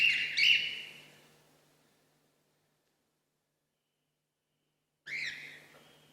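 Birds in a live opera-stage performance give two bright chirping bursts, one at the start and another after a long silence, each fading out with a short echo.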